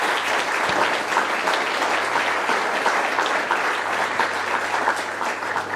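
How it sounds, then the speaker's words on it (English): An audience at a candidate forum applauds the candidates with steady, dense clapping, loud and continuous throughout without a break. "Let's give the candidates a round of applause."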